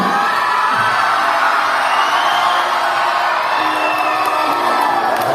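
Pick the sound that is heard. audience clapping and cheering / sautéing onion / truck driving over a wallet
audience clapping and cheering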